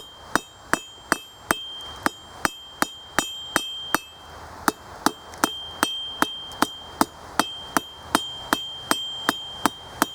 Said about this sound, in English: Nice gentle hits. You don't want to have a lot of hammer strokes in this to have to correct.